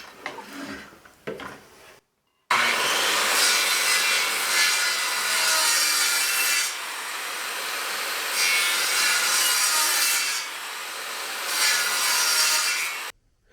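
Hand saw cutting into wood for a curved beam, with brisk rasping strokes in long close bursts separated by short pauses, after a few faint knocks at the start.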